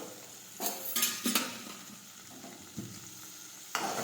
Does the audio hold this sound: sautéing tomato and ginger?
yes